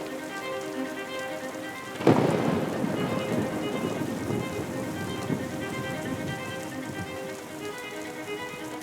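Steady outdoor rain falls throughout at Queen Elizabeth Olympic Park, a continuous dense hiss with a sharp burst of heavier drops or a rumble near two seconds, then settling back into an even, moderately loud downpour with no talking.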